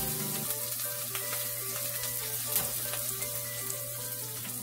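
Garlic and onions fry in oil in a pan with a steady, close sizzle that holds through the whole stretch, with faint spoon and pan noises on top and no talking.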